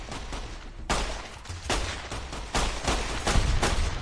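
A pistol used as a sniping weapon in Fallout: New Vegas fires a run of loud, booming shots about once every second or so, each with a rumbling tail, heard alone without voices.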